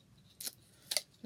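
Two crisp, close scissor snips cut through tape, spaced about half a second apart, in a quiet room during card making.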